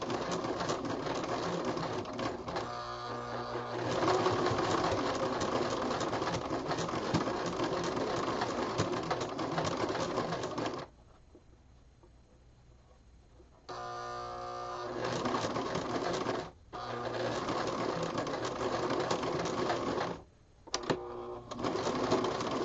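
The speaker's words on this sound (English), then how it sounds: "I'm just going to take my time sewing over these bumps as it's a little bit of bulk for your machine" A domestic sewing machine stitching over a bulky shirring seam, a rapid mechanical whirring hum in long runs with pauses and brief stops, close and clear with no talking.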